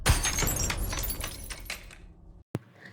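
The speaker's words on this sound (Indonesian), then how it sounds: "dia gak sengaja menyenggol dan menjatuhkan bingkai foto di dinding. Kaca pecah." A glass picture frame falls from a wall and smashes loudly, scattering in a burst of breaking shards, fading over two seconds, followed by silence and one sharp late clink.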